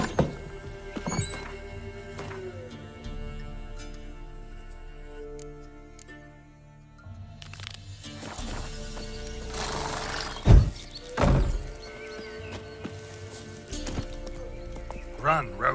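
Roach the horse in The Witcher 3 gallops with steady clip-clop hoofbeats and gives a loud whinny near the middle, amid game ambience and brief spoken lines.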